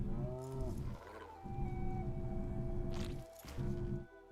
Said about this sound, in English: Pet him, and then he's gonna shit.